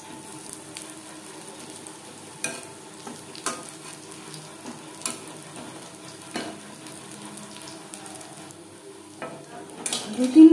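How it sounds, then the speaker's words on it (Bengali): Jute leaf pakoras deep-fry in oil over a low-to-medium flame and get turned two or three times, giving a steady soft sizzle with scattered clicks and scrapes that grow louder at the end. "দু তিনবার উল্টে পাল্টে ক্রিস্পি করে ভেজে নেব।"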